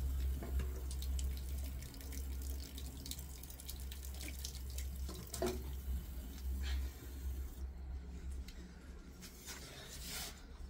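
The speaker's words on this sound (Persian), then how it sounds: "بذار آب بخورم و شیر رو باز کنم" Water runs steadily from a household tap, a continuous close hiss with faint drips and splashes, no talking.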